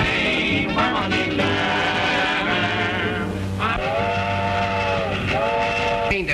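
Train running with repeated steam-style whistle blasts, loud and close, the steady rumble of rail cars continuing underneath, with sustained whistle tones sounding at intervals across the clip.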